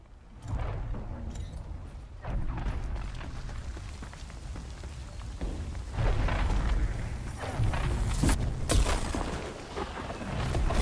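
A storm builds on Tharis Island in The Cycle: Frontier, a continuous roaring wash of wind and rain broken by heavy booms and cracks that grows louder over about ten seconds.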